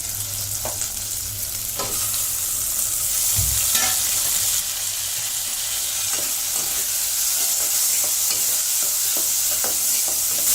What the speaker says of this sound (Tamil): தீயை கொஞ்சம் ஸ்லோவாக வச்சு வதக்கணும், இல்லைன்னா வெங்காயம் தீஞ்சு போயிடும்